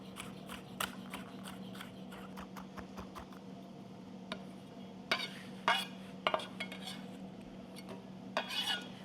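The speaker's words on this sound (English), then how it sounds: "So now we just mince that garlic." Garlic minced with a knife for turkey zucchini boats, quiet rapid tapping of the blade on a board with occasional louder clicks and scrapes, heard faintly without talk.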